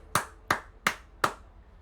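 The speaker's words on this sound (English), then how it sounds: "Round of applause to me." Four sharp hand claps spaced evenly about a third of a second apart, close and crisp, alone against a quiet background.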